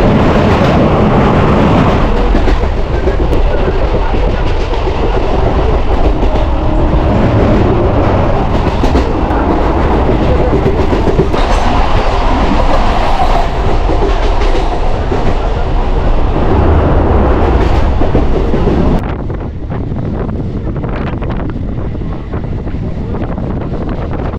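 A local train runs just after leaving Dum Dum station, a loud rumbling roar with rhythmic clatter and heavy wind buffeting the microphone, continuous throughout and slightly calmer near the end.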